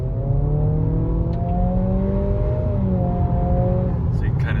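A 2023 Acura Integra with a step-shift automatic accelerates at a launch event in Austin, its engine note rising in steady stretches with brief drops at each shift, sustained and fairly loud beneath road and cabin noise.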